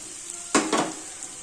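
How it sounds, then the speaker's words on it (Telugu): Onions frying with coarsely crushed coriander seeds and garlic for an evening chaat snack: a quiet sizzle broken by two quick, close scraping stirs. "ధనియాలు ఎల్లిపాయలు వేయించి పెట్టుకున్నాం కదండి అది వేసి కొంచెం వేయించండి బాగా"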